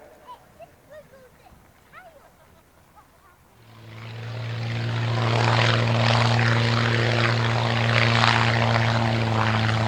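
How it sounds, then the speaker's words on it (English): Birdsong and quiet outdoor ambience give way to a propeller plane making a close pass at an evening air display at Shuttleworth, its droning engine swelling loud and holding steady overhead. "The aircraft's nice close pass now."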